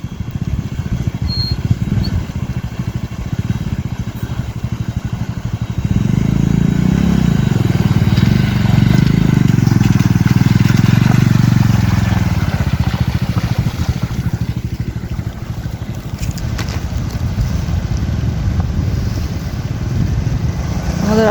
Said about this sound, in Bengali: একটা বাইক ওয়াটার ক্রস করছে